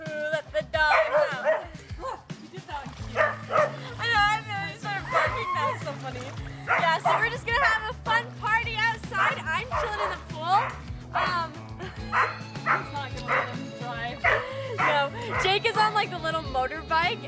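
Several dogs bark, yip and whimper in bursts near a pool, lively and close, with people talking over and between the barks.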